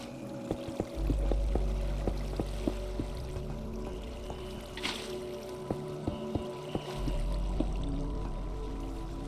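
Water flowing in a Minecraft pickle farm build, a steady rushing pour of game water under a low background hum, punctuated by a scatter of short clicking placement sounds.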